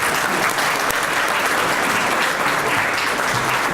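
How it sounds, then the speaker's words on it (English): A business event audience congratulating honorees with a loud, continuous round of applause, a dense wash of many hands clapping with no break across the few seconds. "let's give them a round of applause"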